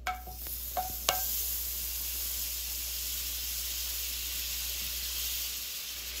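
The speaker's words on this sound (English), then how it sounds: "on medium heat, you want to melt the butter." Butter melting in a pot over medium heat, giving a soft, steady sizzle and hiss that holds throughout after a few brief clinks near the start.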